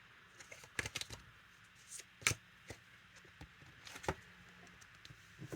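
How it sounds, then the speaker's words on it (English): Cards are riffled and shuffled in short, crisp bursts with pauses between, quiet and close against a faint background hum. "I'm just shuffling another deck, and again the cards are quite slow today"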